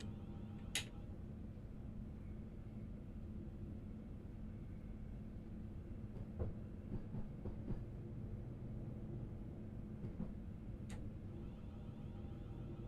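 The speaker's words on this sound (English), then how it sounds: "Driving a City Beam 707, heading to Charing Cross." City Beam 707 electric train in a train simulator game running toward Charing Cross near Tonbridge, a steady low rolling rumble throughout with faint clicks and rail knocks scattered over it, no voices.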